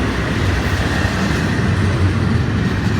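Train 101 running with three locomotives passes close by as a loud, steady rumble of wheels and engines that continues without a break for the whole stretch.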